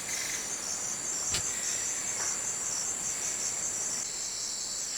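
Cicada buzzing steadily in the Bajo Urubamba forest, a loud, unbroken high drone that fills the whole clip with no voices, joined by a brief sharp click near the middle.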